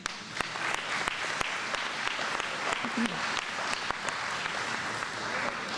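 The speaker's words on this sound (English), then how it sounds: "You can clap for that." An audience claps steadily through a high school ribbon cutting, a broad even patter of many hands with a few sharper individual claps, continuing alone without speech.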